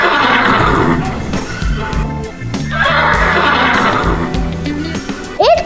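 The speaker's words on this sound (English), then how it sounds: "It's a horse." A horse whinnies loudly twice, close by. Each call is a long, wavering neigh, and a brief voice-like sound comes at the very end.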